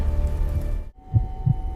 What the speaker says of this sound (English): Its heartbeat grew stronger.